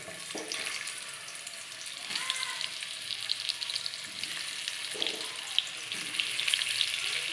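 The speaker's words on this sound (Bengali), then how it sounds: "তেলটা গরম হয়ে গেছে, এবার দিয়ে দেব পটল।" Pointed gourd (potol) pieces fry in hot oil with a steady close sizzle and crackle, swelling in brief louder bursts as the pieces are stirred.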